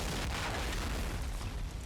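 A grenade blast echoing in an underground tunnel in a realism-modded war video game, a dense, rumbling boom that fills the space and decays slowly without pause.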